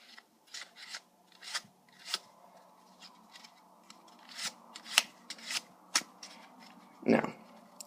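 Crisp bursts of cards riffling and snapping, repeated in short irregular strokes, ending in a louder ruffle; close and clear with no talking.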